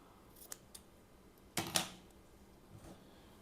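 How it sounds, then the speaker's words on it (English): Scissors snip off leftover yarn from a crocheted rose bookmark, giving a few quiet, sharp close cuts with a louder double snip in the middle and near-silence around them. "I'm just cutting off the remaining yarn"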